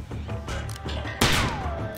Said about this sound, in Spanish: son varios disparos de uno.